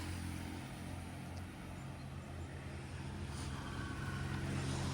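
A car reversing slowly gives off a low, steady engine hum, quiet and even, swelling slightly toward the end.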